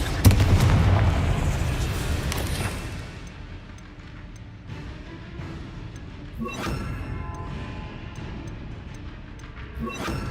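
A fiery explosive spell goes off in the Hogwarts Legacy video game with a loud booming blast that rumbles and fades over a few seconds, followed by lighter crackles and impacts.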